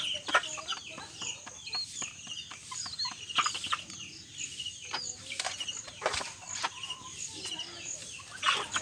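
Rhode Island Red and Lacastrolop chickens cluck and chatter in a bamboo coop, with frequent soft calls and scratching sounds close by and no one talking.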